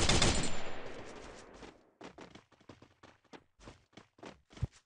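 A burst of loud gunfire echoes and fades, followed by a scattered series of sharp, separate shots and clicks.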